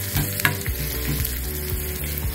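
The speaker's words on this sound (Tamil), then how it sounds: "ஒரு சின்ன வெங்காயம் அரிஞ்சி வச்சுருக்கேன் பொடியாக, அதை போட்டு இதில் வதக்கிக்கிறேன்" Finely chopped small onion sautés in a pan with a dense, loud crackling sizzle and a few stirring scrapes, up close and with no voices.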